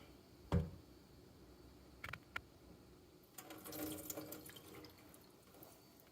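Water flushes over an etched knife blade coated in a baking soda and water mix, heard as a faint splash, a few drips and a short, soft run of trickling water.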